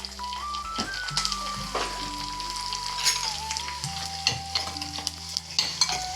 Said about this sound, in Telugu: ఎండుమిర్చి, ఎల్లుల్లిపాయ, కరివేపాకు, ఆవాలు, జీలకర్ర వేసేసుకుంటున్నాను.